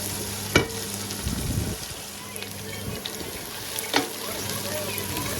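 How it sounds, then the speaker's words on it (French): Tomato paste cooks in a pot alongside chicken and bok choy, giving a steady soft sizzle and bubbling with a few stirring scrapes and knocks, heard close and fairly quiet. "Je les laisse encore mijoter 2 minutes."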